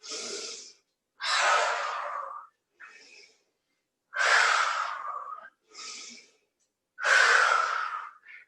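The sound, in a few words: cooling breath exhaled through the mouth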